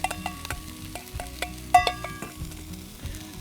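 Capsicum and camel sausage frying together in a pan, a soft continuous sizzle broken by repeated sharp clinks and scrapes of a utensil stirring, close and clear with no voices.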